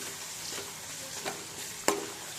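Ginger garlic paste fries in a pan with onions, giving a close, steady sizzle with a few stirring scrapes and one sharp clack near the end.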